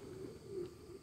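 Spanish Pouter pigeons, kept as breeders, give a soft, steady low cooing that runs throughout, faint and close with no other sounds over it.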